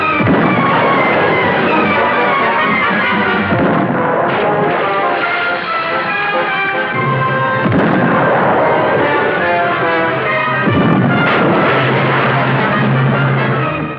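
Ship cannons fire a broadside, loud booming blasts that roll one into the next over a dense, rumbling battle din, sustained and close throughout.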